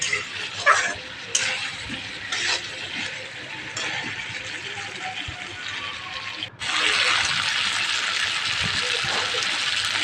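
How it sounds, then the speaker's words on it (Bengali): Vegetables frying in a pan for a home-style fish and potato curry, a steady broadband sizzle that swells louder partway through, with small clinks and scrapes over it. "তো এবার দেখো আমি আবার একটু ভেজে নিব"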